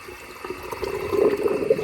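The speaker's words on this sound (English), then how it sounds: "So I'm just going to open this air relief. It'll flood the water back," Water floods back through an opened air relief into the pot of an Intelliflow pool pump. It starts as a low trickle and builds into a gurgling, rushing flow that grows louder toward the end.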